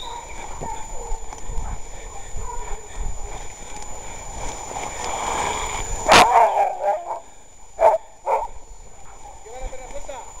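A hunting dog barks during a wild boar hunt in scrubland, a few loud, sharp barks in short bursts near the end, with someone talking and urging the dog on in the background.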